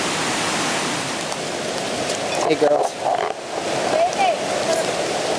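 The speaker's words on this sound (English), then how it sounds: "It's pouring rain right now, but we're in the forest by the waterfall." Heavy rain pours in a forest beside a waterfall, making a dense, continuous wash of water noise, and a voice speaks briefly partway through.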